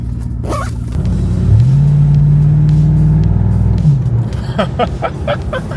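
A C5 Corvette engine hums steadily from inside the cabin, rising into a sustained tone as it pulls out of a parking lot, with faint clicks and rustling toward the end.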